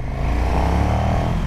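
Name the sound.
KTM 1290 Super Duke R LC8 engine revving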